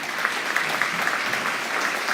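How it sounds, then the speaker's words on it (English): Sustained applause from a crowd of young students at a pre-K to second grade school awards assembly, steady clapping filling the room with no talk over it. "one more round of applause for our empathy week"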